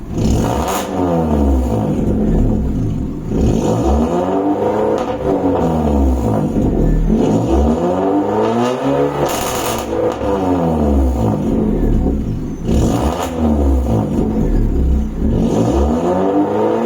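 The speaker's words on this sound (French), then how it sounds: "j'ai essayé de mettre 2-3 coups de gaz comme elle a chauffé" A warmed-up Suzuki Swift Sport engine is blipped repeatedly, each throttle stab rising and falling in a loud, close, rhythmic rev cycle with no talk over it.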